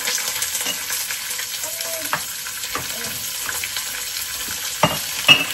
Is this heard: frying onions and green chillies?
yes